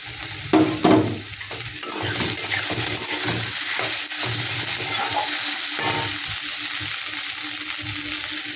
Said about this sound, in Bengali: এবারে আলুটা আমি দিয়ে দিচ্ছি